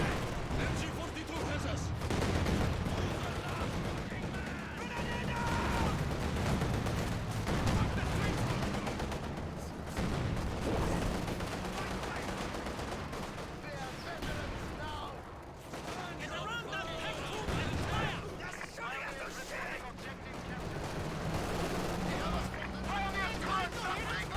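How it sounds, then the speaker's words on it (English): A Katyusha rocket barrage hits enemy troops in a real-time strategy match. Rapid, overlapping bursts of fire and blasts rumble on continuously beneath almost constant excited commentary, with game voice lines mixed in. "he's gonna get met by this Katusha barrage"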